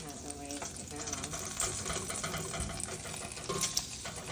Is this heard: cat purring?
no